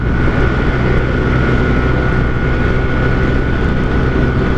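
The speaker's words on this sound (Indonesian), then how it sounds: "ini anginnya kenceng banget" Strong steady wind roars over the microphone while riding a Yamaha Freego 125 cc scooter at speed, a loud unbroken rush with a constant engine drone underneath and no pauses.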